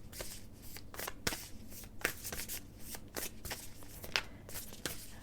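Oracle cards shuffled by hand during a tarot reading, a close series of quick papery riffles and snaps with an uneven rhythm, alone without speech.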